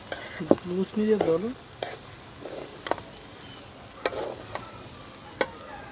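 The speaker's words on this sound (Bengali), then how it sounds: "দিয়ে এখন ভালো করে সবজির সাথে মিক্স করে নেব" Vegetables, red lentils and pulao rice being stirred in a pot on a clay stove at an outdoor picnic, giving irregular scraping and tapping strokes over a soft cooking hiss, with a brief voice near the start.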